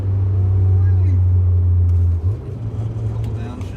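A car engine drones steadily while driving, then the pitch drops and steps up as it downshifts into a lower gear, heard from inside the cabin as a close, loud low rumble.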